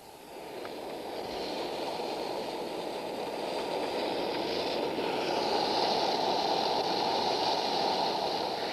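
Model train carriage on sprung bogies running along a track, a steady close rumble and rattle that builds quickly then holds even throughout, with a faint hiss above.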